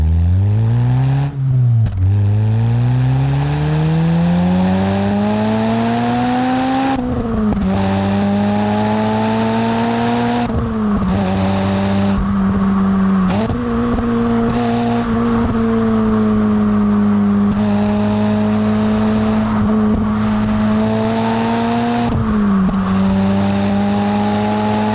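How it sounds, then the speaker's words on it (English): A DC5 Honda Integra Type-R with an aftermarket Fujitsu exhaust revs up and down repeatedly, a loud, close droning note that climbs and settles across several gear changes. "That's one of the reasons it now has this Fujitsu exhaust on it."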